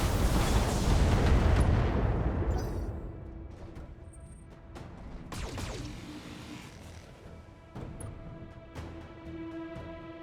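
Mech weapons in the BattleTech video game fire and explode in a loud, rumbling opening blast that decays over a few seconds, followed by scattered sharper impacts and pops through the rest.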